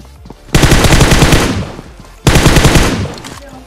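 Automatic gunfire in the mobile battle royale game BGMI, heard as two loud, rapid bursts of shots, each about one and a half seconds long, separated by a brief pause.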